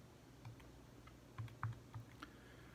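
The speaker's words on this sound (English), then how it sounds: "Now I can just type that in my calculator and get an answer." Quiet, sparse key taps as numbers are punched into a calculator for a math calculation, a handful of soft clicks spaced irregularly over a low steady hum.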